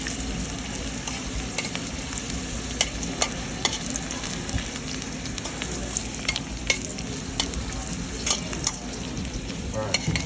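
Zucchini slices sizzling and toasting in a hot pan, a steady dense crackle with scattered sharp pops and occasional stirring scrapes throughout.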